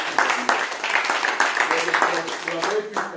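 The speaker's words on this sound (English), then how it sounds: "Let's clap for those who came on time." An indoor audience clapping in a sustained, dense patter of many hands, with a voice talking over the applause.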